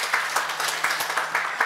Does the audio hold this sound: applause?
yes